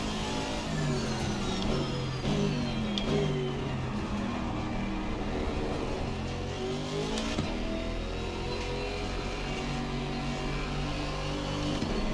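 A BMW GT race car engine in Assetto Corsa Competizione at the Zolder circuit, revving hard and steadily through gear changes, with a sustained rising and falling roar close to the listener for over ten seconds.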